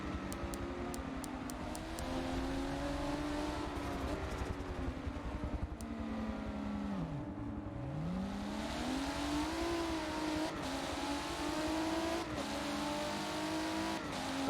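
Race car engines in a sim racing video game roar continuously, with pitch sweeping down and back up through gear changes and braking, loud and steady with no talking.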